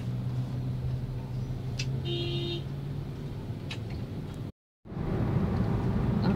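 A bus horn gives a short toot amid steady road and engine rumble in Tangerang, with traffic noise continuing after a brief dropout.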